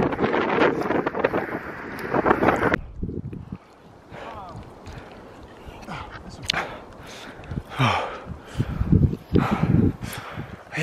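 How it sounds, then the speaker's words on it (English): Strong gusts batter the microphone on the Clear Creek Trail, coming in loud rushing bursts that drop away briefly before returning, while people talk in between. "it's super windy"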